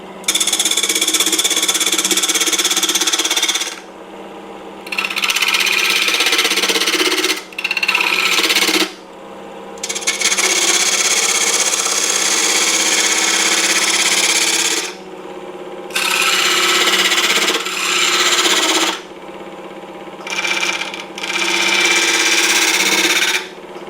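Wood lathe spinning a salt cellar box while a tenon is recut, a loud whirring hum broken into several bursts by short pauses as the tool lifts away and returns.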